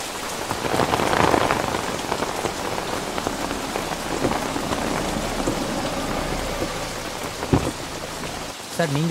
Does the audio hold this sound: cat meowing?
no